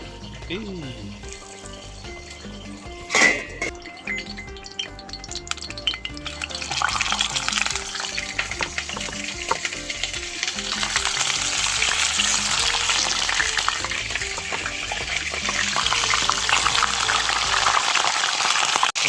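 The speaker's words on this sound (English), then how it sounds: "quickly frying the fish" Fish (vaisū) fries in a pan during Sunday cooking in Samoa, a close, steady sizzle that builds and holds, with a brief clatter early on and a voice talking over it.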